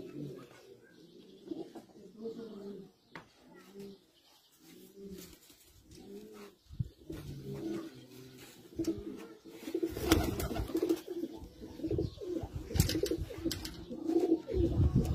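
Teddy flying pigeons coo steadily in low, rolling phrases, repeating close by throughout, with rustling and handling noises growing busier toward the end.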